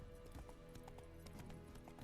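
Roach, Geralt's horse in The Witcher 3 video game, galloping with rhythmic hoof clip-clops over a faint game backdrop, the beats quick and steady at moderate volume.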